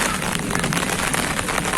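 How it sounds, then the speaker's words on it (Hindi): Heavy rain drums on an umbrella up close, a dense, loud, continuous patter with no pauses. "इतनी बारिश ऊपर से इतनी आवाज आ रही है"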